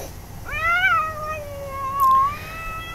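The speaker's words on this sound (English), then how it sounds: "And there's that cat with two of the new babies." A cat at an outdoor feeding spot lets out a long, drawn-out wailing meow, close and clear, followed by a second rising, caterwauling cry, with faint background noise.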